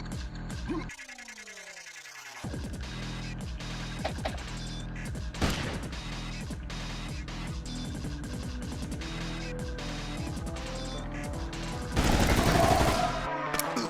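Gunshots in a distorted, deep-fried indie shooter game, with repeated sharp crackling shots that sit inside a dense buzzing musical backdrop, growing harsher and louder toward the end with no talking.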